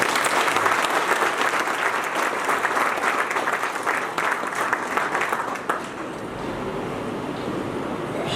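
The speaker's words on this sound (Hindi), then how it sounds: "सब लोग जोरदार ताली बजाएं" An audience at a religious saints' gathering applauds loudly, sustained dense clapping for several seconds before fading to a quieter hum.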